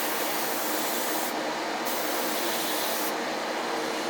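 An airbrush sprays weathering paint onto the drivers and valve gear of a model steam locomotive, giving a steady, close hiss of compressed air that runs without a break, with two brief dips in the highest tones.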